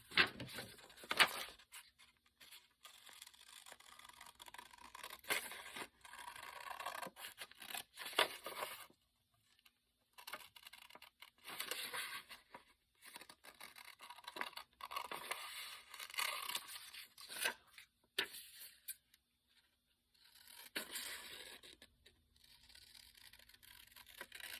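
Paper for Valentine's crafts being cut with scissors in bursts of close, scratchy snipping and rustling separated by brief quiet gaps, with no speech.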